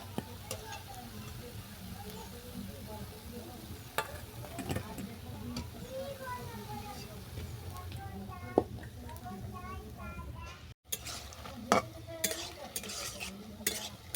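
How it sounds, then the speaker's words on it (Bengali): Oat and palm fritters fry in oil, a soft bubbling sizzle with frequent stirring and ladle clicks, heard faintly beneath background voices. "বাকি যেগুলো আছে একইভাবে ভেজে নিচ্ছি"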